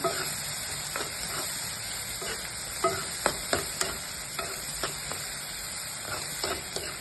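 Dried shrimp frying in a pan, a steady close sizzle and hiss with scattered stirring scrapes and light clinks, no voices.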